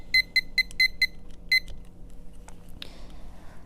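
Electronic kitchen timer being set for boiling eggs, a quick series of sharp high beeps with button presses, then a couple of isolated beeps and a brief rattle, no talking.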